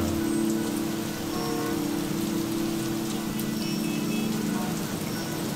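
Steady rain falling on a city street in the video game The Curse of the Werewolves, a constant broadband hiss with a low steady hum beneath, loud and continuous throughout.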